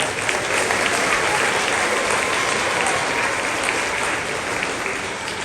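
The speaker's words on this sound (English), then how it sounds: "Give him a big round of applause." Audience applause at a sixth grade spring concert: a full room of parents clapping loudly and continuously, dense and even, with faint crowd voices beneath.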